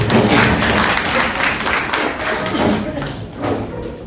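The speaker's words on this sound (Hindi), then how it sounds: "ताली बजाइए जोर से" A school audience of parents at an orientation program applauds loudly, a dense sustained wash of clapping that lasts several seconds and tapers slightly near the end.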